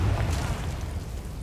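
A Confringo blasting spell in Hogwarts Legacy lands as a deep, rumbling burst that fills the moment and rolls on steadily without a sharp break.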